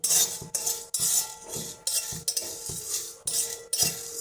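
Cumin and spices roasting in a pan are stirred with a metal utensil, giving regular, close scraping and clinking strokes about twice a second. A faint sizzle runs underneath and there is no talk.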